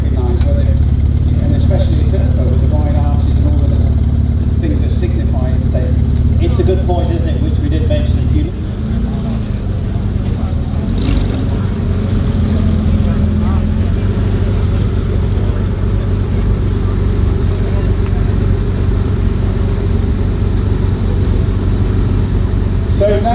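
A Porsche 911 Turbo rolling up slowly during a cavalcade at Salon Privé, its engine giving a loud, steady, close low rumble that drops and shifts in tone partway through, with voices murmuring in the background.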